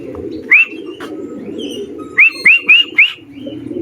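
Racing pigeons at a home loft during a one-loft race give short, rising chirps and calls, one alone and then a quick run of four, close by over a low, steady rumbling background.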